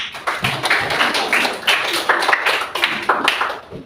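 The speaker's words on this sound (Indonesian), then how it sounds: "berikan dulu tepuk tangan" A primary-school class clapping hands together in a classroom, a brisk, uneven burst of many overlapping claps at close range lasting a few seconds.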